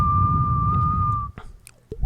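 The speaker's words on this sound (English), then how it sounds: "I could only whistle before from sucking in and then." A single steady whistled tone produced by drawing air inward holds for over a second, fairly loud and close, then breaks off into a few short breathy fragments.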